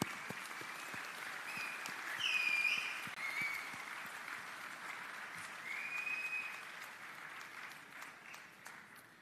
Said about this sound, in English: make a noise, clap, whistle, rustle, and celebrate your graduation today